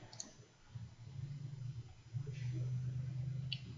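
A computer mouse clicking while a YouTube Studio upload page is being set up, a few faint sharp clicks near the start and end over low background hum and a speaking voice.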